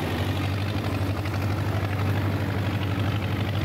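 A John Deere 2010 tractor with a synchro shift transmission runs its engine as a steady, loud, low droning rumble that holds even and unbroken throughout, with no talk over it.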